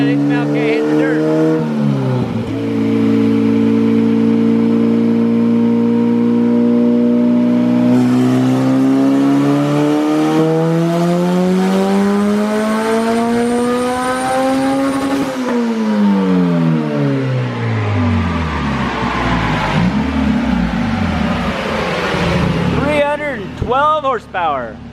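A car engine revving hard under load on a dyno, a loud sustained roar that climbs steadily in pitch, eases back, then surges again near the end.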